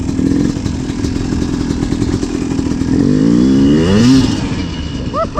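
Yamaha YZ250 two-stroke dirt bike ridden in second gear, its engine droning loud and close with steady buzzing, then climbing in pitch as it revs up near the end, under heavy wind rush.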